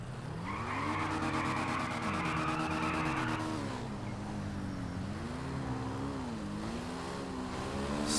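A Triumph Tiger 800 XCX motorcycle in GTA V brakes hard. Its engine note drops and wavers while tyres skid and squeal in a long, loud, continuous stretch with no voices.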